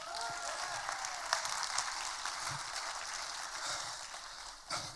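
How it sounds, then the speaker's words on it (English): Faint, steady crowd applause from an audience at a motivational speaking event as a guest walks on stage, a continuous distant wash of clapping without talk. "Give him a big round of applause as he comes out here."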